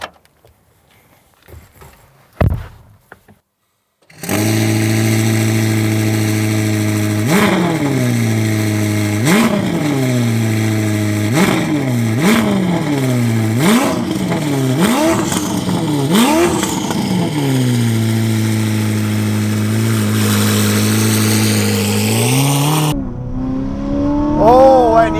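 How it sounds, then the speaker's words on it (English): A 1000hp Novitec Ferrari SF90 roars loudly and close in South Africa, rising in a sustained engine drone broken by a series of sharp revving blips before easing off and cutting out. "I'm going to pop in, rev her up a little bit"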